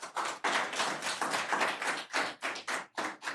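Audience clapping at a county board of commissioners meeting, a dense burst of hand claps from several people, fairly close and steady for a few seconds, with no talk.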